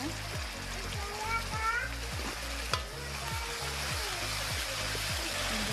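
Black pepper sauce goes into a hot pan with ground black pepper for a squid dish and sizzles steadily, with a regular rhythmic low scraping from stirring and a voice speaking under the frying.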